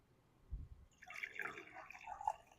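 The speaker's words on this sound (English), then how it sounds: "Pour my room temperature water" Room-temperature water is poured into a vase holding cut zinnias, a faint, close trickle and splash that starts after a soft bump and continues for a moment without talk.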